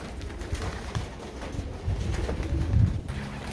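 Racing pigeons coo near the loft, low murmuring calls repeating throughout at moderate loudness, with no talking.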